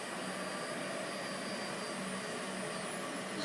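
A Microkenetics-controlled IH CNC mill runs a test, its higher-amperage motor giving off a steady, dense whirring drone with a faint high tone, continuous and with no talk.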